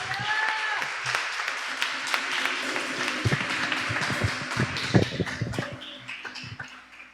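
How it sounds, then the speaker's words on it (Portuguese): A church congregation applauds during a prophetic worship service, a broad steady wash of clapping with voices and music mingled underneath, holding level throughout before thinning at the end. "Aplauda ao Senhor em nome de Jesus."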